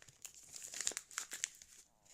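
A small plastic packet crinkled and handled up close, a quiet string of crackling rustles and crunches with short pauses and no voices.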